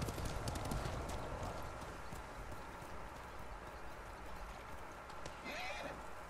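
Rhythmic hoofbeats of a horse in the video game Ghost of Tsushima clop steadily over a low background rumble, with a faint whinny-like sound near the end.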